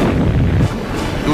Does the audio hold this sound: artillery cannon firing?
yes